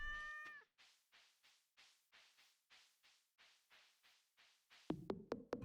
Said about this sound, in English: Hey there, kitty.